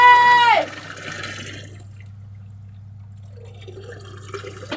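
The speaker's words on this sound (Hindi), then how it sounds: "देखिए यहाँ पानी बहता रहा है।" Water runs and trickles steadily at close range outdoors, a soft continuous flow after a brief tonal sound at the start, with a low hum beneath and no talk.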